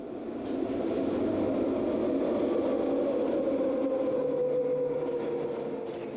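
Electric commuter train, the last late-night service, running steadily along the track as a horror-story sound effect; a continuous, close rumbling drone with a low hum that holds evenly throughout, with no voices.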